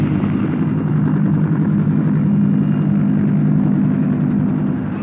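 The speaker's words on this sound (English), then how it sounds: "And then the last helicopter left." Helicopter flying away, a steady low rotor and engine drone that stays loud and continuous without talk.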